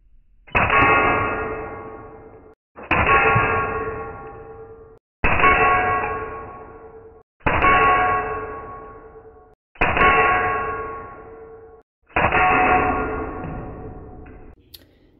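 Heavy air rifle pellets strike a 5 mm thick glass wine bottle six times in a steady sequence, each hit a loud, ringing clang that decays for about two seconds before the next.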